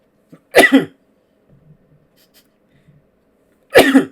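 A person sneezes twice, two loud close explosive bursts a few seconds apart with near silence and faint breathing between them.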